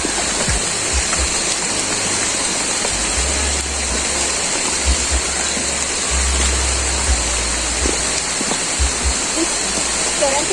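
Heavy rain pours near a river in Venezuela, a dense, constant hiss of falling water close by, with low rumbles and faint voices underneath.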